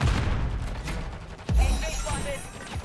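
Rapid gunfire and a heavy boom from a Call of Duty: Modern Warfare III multiplayer match as enemies try to shoot down a helicopter, dense and loud throughout with a sharp impact midway, under game noise.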